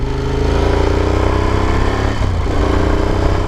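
Moto Guzzi Stelvio motorcycle engine while riding, a steady, loud, throbbing mid-pitched drone with a brief dip before the engine pulls on again, heard close and alone.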